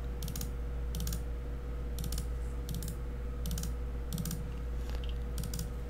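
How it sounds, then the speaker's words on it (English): Bursts of keystrokes on a computer keyboard come in short clustered runs with pauses between them, set against the steady hum of a workshop running a CNC machine with a rotary axis. "hit 9 on the keyboard twice"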